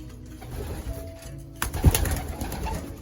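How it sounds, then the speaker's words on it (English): Racing pigeons back from a 150-mile race coo steadily at close range in a loft, with low rumbling calls, a brief flutter or thump near the middle and a faint background hum; no one speaks. "Some of the birds that came back."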